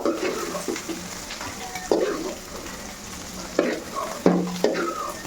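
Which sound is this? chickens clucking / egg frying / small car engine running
egg frying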